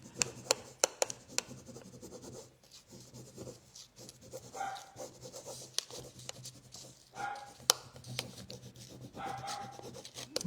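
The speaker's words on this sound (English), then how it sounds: "Oh, I can hear Olive barking at the mailman again." A dog barks in scattered sharp bursts at a moderate distance, mixed with rubbing and scraping noises close by.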